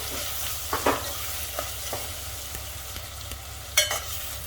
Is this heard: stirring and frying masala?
yes